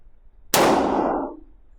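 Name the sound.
Hi Point JXP 10mm pistol being fired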